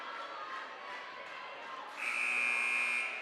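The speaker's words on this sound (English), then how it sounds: "There's the warning buzzer." A warning buzzer sounds at a high school girls' basketball district quarterfinal, a loud, steady electronic tone that starts partway through and holds for about a second over crowd noise.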